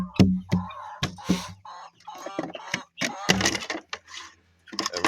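Backyard chickens with chicks clucking in short, close bursts, busy and irregular, on a homestead with no talk over them.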